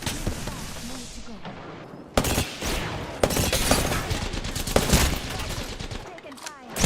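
Video game gunfire aimed at the player, with sharp shots and bursts coming in over a constant battle noise. The loud cracks arrive in clusters, and a voice talks faintly underneath.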